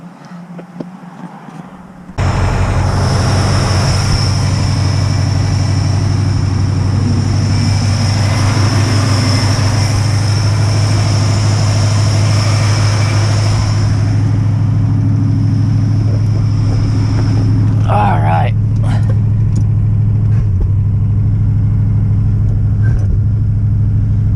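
A 1969 Ford Mustang under restoration starts up and drives, its engine giving a loud, steady low rumble that holds unbroken for over twenty seconds.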